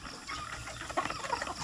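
Chickens clucking while eating breakfast, soft scattered clucks and rustling pecks at close range, quiet and irregular.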